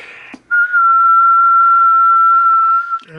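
A person whistles into the microphone of a SEA 235 HF SSB marine and ham radio on upper sideband at 60 meters, holding one loud, steady, pure tone for about two and a half seconds.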